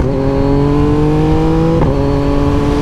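A 2024 Yamaha MT-09 motorcycle with a full Akrapovic race exhaust drones loudly and steadily at cruising speed on a night ride. Its engine tone dips briefly in a quick gear change, with wind noise underneath.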